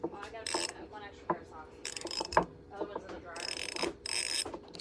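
A 1/4-inch Easy Red ratchet being worked, quick rhythmic clicking of the pawl in short bursts close by, interleaved with someone talking and some brief bright scraping.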